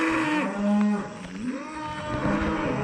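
Cows mooing on a farm pasture, several long, low, drawn-out moos that overlap and rise and fall, loud and fairly close, with no talk.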